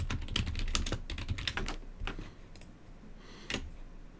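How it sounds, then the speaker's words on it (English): Someone types on a computer keyboard while building a flowchart diagram. A rapid run of close, crisp keystrokes is followed by slower, sparser taps and one final sharper click. "I'm just going to start typing on the keyboard"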